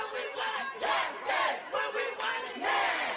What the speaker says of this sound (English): Officers stood behind yellow caution tape as the crowd chanted.